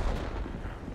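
Tank cannon firing in World of Tanks, a single heavy low boom that rolls into a dense rumbling decay lasting about a second, fairly quiet overall with no voices.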